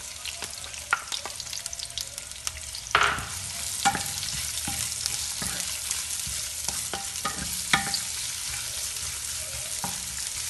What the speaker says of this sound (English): Hintayin po natin maging transparent yung onion